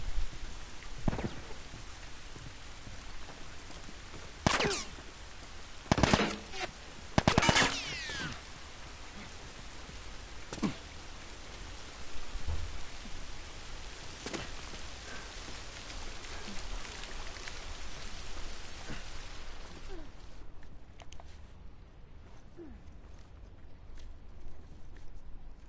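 Rain in the video game The Last of Us Part 2, a steady soft hiss of falling rain with scattered louder splashes and crackles, fading toward quiet near the end.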